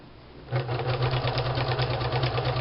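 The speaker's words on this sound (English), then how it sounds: "I'm just going to sew again. This is sewing the edge of the flap." A sewing machine stitches along the edge of a bag flap, a steady close whirring hum that starts after a brief quiet moment and runs evenly to the end.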